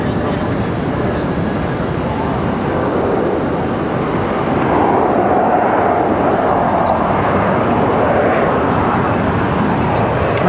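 Aircraft engines rumble and whine steadily at Raleigh-Durham International Airport as planes taxi, a loud continuous drone swelling slightly midway, with a person talking over it.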